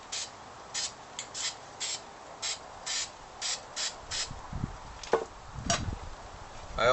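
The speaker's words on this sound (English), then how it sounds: "I also spray paint the inside of the top." Short, regular hissing bursts of an aerosol spray can painting the inside of a can for a pinhole camera, about a dozen in steady rhythm, followed by some rubbing and handling noises.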